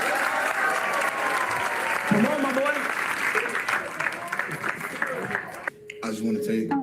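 An audience gives loud, sustained applause and cheering, thinning toward the end. Someone speaks briefly over it.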